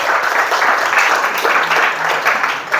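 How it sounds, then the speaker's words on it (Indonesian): Applause from a classroom audience for the winner of a school activity, a dense, steady patter of many hands clapping throughout, loud and close. "Tepuk tangan dulu."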